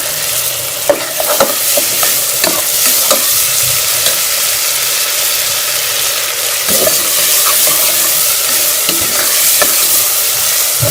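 Tomatoes and green chilies fry loudly with onion and garlic-ginger paste, a dense close sizzle with repeated clicks and scrapes of stirring throughout, and no talking.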